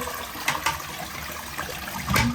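Rushing water from a Roca toilet on a Grohe frame flushing, a short close-up gush with small splashes and trickles rising toward the end, no talk.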